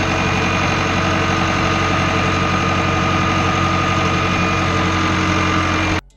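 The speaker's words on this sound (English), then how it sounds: "The Euroboss makes all of this consideration extremely easy, as it cuts large and even swaths across great distances" A Euroboss agricultural machine's engine runs steadily and loudly at a constant idle-like drone with heavy low rumble, cutting off abruptly near the end.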